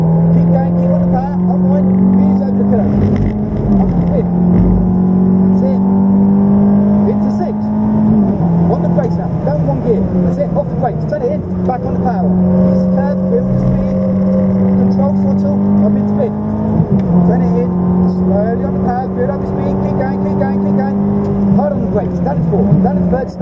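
A Ferrari F430 on the Silverstone circuit, its engine loud and close as it accelerates and holds power, the pitch climbing and dropping with gear changes, while an instructor speaks over it.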